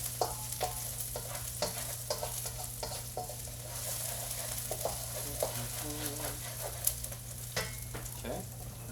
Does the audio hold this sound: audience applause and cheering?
no